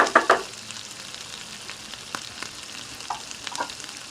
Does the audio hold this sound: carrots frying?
yes